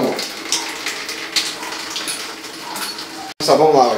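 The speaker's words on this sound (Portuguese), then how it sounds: "Vamos enxaguar. Já era, vai sair todo o sabão." Water sloshes and splashes as soap is rinsed out of a jiu-jitsu kimono, a close, irregular wet rustling that runs steadily, ending in a brief louder clatter.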